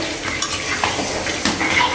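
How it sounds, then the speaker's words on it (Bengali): Curry being stirred and sautéed in a pan, with scraping strokes of a spoon against the metal over a soft background sizzle, loud and close, a few distinct strokes in quick succession. "আর বিশেষ করে আমি ভালোভাবে তরকারিটা কষাই"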